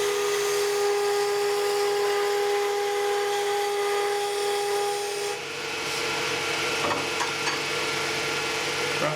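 Wood spinning on a lathe while a skew chisel cuts a tool handle, a steady close hum with a tonal whine that shifts to a rougher scraping cut partway through, loud and continuous, no voices.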